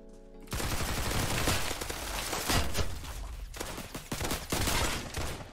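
Rapid bursts of gunfire from a firearm in Roblox Criminality, loud and dense, rattling on almost continuously from about half a second in with brief dips between volleys.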